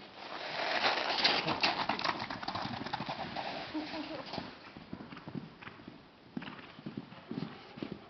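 A Gypsy Vanner colt bucks and clatters his hooves outdoors, a steady stream of close, irregular clopping and thuds, with birds cooing in the background and a person talking softly.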